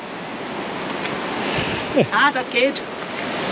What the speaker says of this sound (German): Die Trafalgar Falls mit Papa und Mama Falls sind die beeindruckendsten Wasserfälle auf unserer Karibiktour.